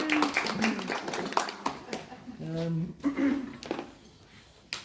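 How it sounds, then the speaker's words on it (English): A few people clap briefly and unevenly, mixed with talking and laughter, close by. "Clap for yourself. Clap for myself."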